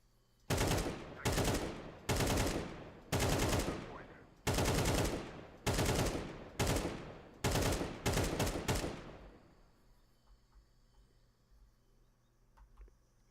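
Gunfire in a first-person shooter comes as about nine loud, close bursts of automatic fire, fairly evenly spaced, with the last ones packed together. It then falls away into a faint background hum.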